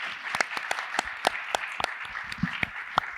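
An audience applauds panelists at a SXSW EDU 2022 session, with steady clapping from many hands and a few sharper, closer claps standing out through the short burst.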